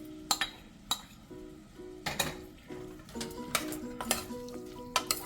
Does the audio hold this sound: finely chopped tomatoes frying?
yes